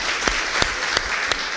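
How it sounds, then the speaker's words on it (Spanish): A church congregation claps in steady, rhythmic unison, about four sharp beats over a dense bed of crowd applause, close and moderately loud. "puedes darle un fuerte aplauso al Señor"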